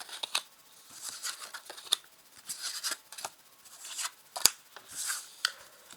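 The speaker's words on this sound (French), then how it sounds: "Alors, je positionne 5 cartes." Tarot cards laid out one by one on a table, giving soft papery slaps and slides in an uneven series of short, close taps with quiet pauses between them.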